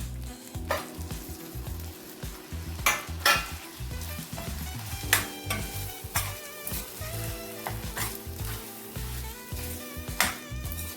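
Country chicken fries in a pan for natu kodi coconut curry, a loud continuous sizzle broken by repeated spatula scrapes and clanks against the pan, close up and busy for the whole stretch.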